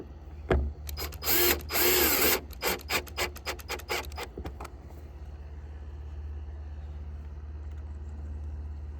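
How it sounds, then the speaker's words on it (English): A T20 driver threading a screw into plastic on a 1994-2001 Dodge Ram license plate light, with a harsh rasping grind followed by a run of short scraping turns, close and loud, then a steady low hum. "let's grab the top screw and kind of hand thread it in there a little bit to get it started."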